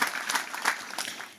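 A brief burst of clapping, fairly faint, with several hands applauding unevenly for a second or so.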